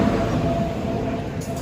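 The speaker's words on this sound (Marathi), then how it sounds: "आताची ट्रेन येऊन राहिली." A train arriving at a station rumbles steadily close by, a continuous low mechanical roar with a faint hiss and a brief brighter screech near the end.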